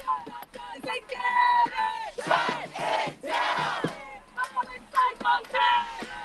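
A street protest crowd in New York City chants and yells in loud bursts, heard from just above the crowd, with rising roars and brief lulls between waves of voices.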